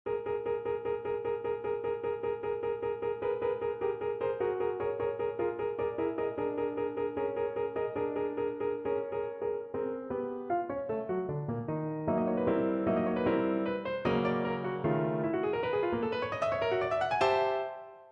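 Solo piano performs a full phrase of Bartók's Bagatelle No. 2, opening with steady repeated notes over a held pattern, then moving into wider rising and falling chords that climb brightly before ending.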